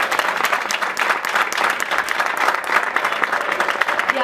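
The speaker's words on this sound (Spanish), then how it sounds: "Un aplauso." An audience applauds a candidate at a political party's candidate presentation, loud, continuous clapping from a crowd that holds steady for several seconds, with some crowd noise mixed in.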